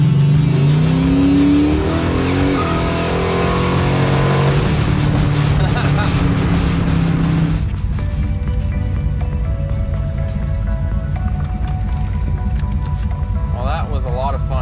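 An 840-horsepower big-block 1968 Chevy Chevelle Malibu driving fast, its engine roaring loud and steady through hard acceleration and gear changes, with people talking inside the car over the engine noise.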